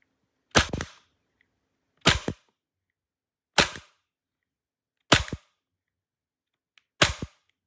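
Five sharp gas-blowback shots from a Tokyo Marui Glock 19 Gen3 airsoft pistol, evenly spaced about one and a half seconds apart, each a crisp close crack with a short metallic slide snap, no talk.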